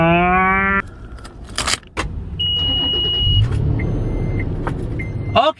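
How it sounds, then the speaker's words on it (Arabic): A car is being started up, with a warning chime sounding first, then clicks and thumps, short electronic beeps and a brief mechanical whir at the end, all close and loud, with no speech. "واجي اريد اشغل السيارة"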